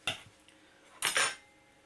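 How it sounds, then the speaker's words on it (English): Two quick knife cuts slicing fresh blueberries in half, each a short crisp click of a blade meeting a cutting board, the second louder and slightly longer, with a brief faint tap between them in a quiet kitchen. "And just cut them in half."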